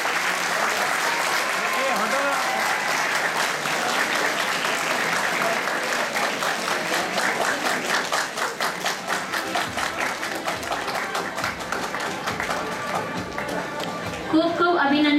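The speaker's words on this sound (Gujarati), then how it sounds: "તાળીઓ તો આપણે ચાલુ જ રાખવી જોઈએ." An audience at a college annual function and prize distribution applauds loudly and continuously, the clapping growing more rhythmic toward the end while a voice carries over it.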